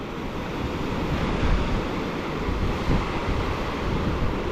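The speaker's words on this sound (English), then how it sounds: "see where that water just splashed up?" Ocean waves splash and wash onto the beach at Longboat Key after a storm, a continuous broad surf roar with wind buffeting the microphone and no voices.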